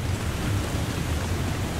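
Storm in the video game The Long Dark, a dense wash of heavy rain and wind with low rumbling, steady and loud throughout with no talk.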